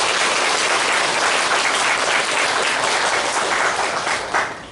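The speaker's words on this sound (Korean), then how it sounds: "우리 성민 씨를 위해서 우리 감사의 박수 부탁드립니다" Sustained applause from a church congregation during a Sunday worship service, dense and steady at full volume for several seconds, then fading slightly at the end.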